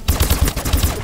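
Shotgun blasts from the video game Call of Duty: Advanced Warfare, a rapid run of about six loud, punchy shots fired in quick succession with no talk over them.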